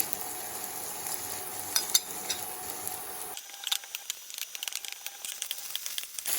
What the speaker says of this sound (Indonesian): Kita masak bawang putihnya kira-kira 1 menit.